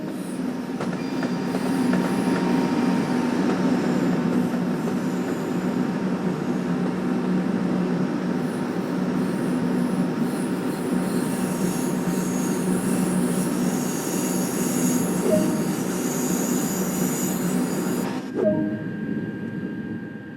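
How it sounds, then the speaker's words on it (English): A TGV Duplex high-speed train in Train Sim World 2 rumbles steadily along the rails with a continuous hum and faint whine, cutting off abruptly near the end; no talking. "Climb aboard the modern high-speed express TGV Duplex train."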